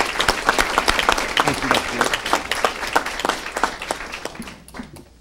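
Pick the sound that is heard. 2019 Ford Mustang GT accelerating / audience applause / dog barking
audience applause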